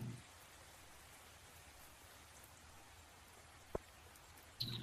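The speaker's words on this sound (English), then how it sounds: "Sounds like it's raining and that spirits will be happy tomorrow." Light, steady in-game rainfall in Stardew Valley patters softly throughout, a faint even hiss with a single sharp click near the end.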